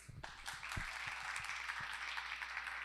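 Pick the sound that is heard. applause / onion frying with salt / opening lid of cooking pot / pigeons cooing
applause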